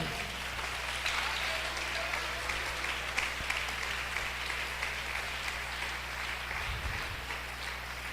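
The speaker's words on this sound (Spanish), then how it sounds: "Él ese aplauso al Señor." A Sunday-school church congregation applauds, a steady, even roll of many hands clapping at moderate distance throughout, with faint murmuring beneath.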